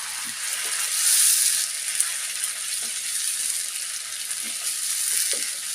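Ground tomato and onion paste sizzles and fries steadily in hot oil for an egg gravy, a close, continuous crackling hiss with a few soft stirring knocks and spoon taps.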